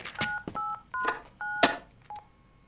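A telephone keypad in the comedy game Dr. Langeskov, The Tiger, and The Terribly Cursed Emerald beeps through about six dialing tones in quick uneven succession, each short dual-pitch beep clear and close, with soft clicks between them.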